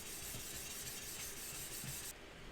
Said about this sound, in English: I feel like a hand finish will give best results, starting with something coarse and working down to something soft